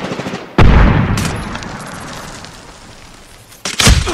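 Loud bursts of gunfire in the Medal of Honor beta on Xbox, with a sharp volley opening, a long echoing tail, then another rapid burst near the end, and no talk.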